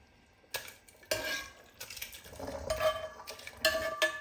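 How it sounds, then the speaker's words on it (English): Beetroot and carrot mixture added to potatoes cooking in a pot for borscht, with a few distinct clanks of a utensil against the pot and stirring scrapes, close and fairly quiet. "now I'm going to put beetroot and carrot mixture to it"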